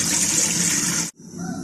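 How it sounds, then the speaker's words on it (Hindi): Roughly two jugs of water pour steadily into a pan set over a flame for cooking macaroni, a loud close gush that stops abruptly after about a second. "अब इसमें तकरीबन 2 जग पानी ऐड करेंगे।"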